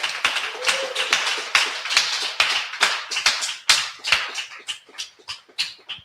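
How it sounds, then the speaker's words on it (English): Audience at an artist appreciation event claps in a loose, uneven burst of distinct hand claps, close and fairly sparse, thinning and softening toward the end. "So give yourselves a round of applause."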